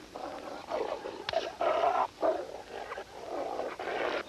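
A dog taken for a wolf snarls and growls in close, rough bursts, with short pauses between the louder growls.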